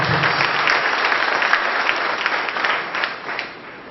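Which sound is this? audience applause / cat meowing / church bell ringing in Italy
audience applause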